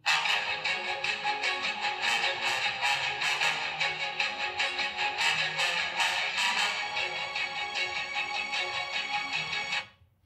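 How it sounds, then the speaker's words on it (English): A Google Pixel phone alarm tone from the November 2025 Pixel Drop sounds loud and alone, a rhythmic pulsing melodic pattern repeating steadily for about ten seconds, then stopping abruptly. "And here's the alarm."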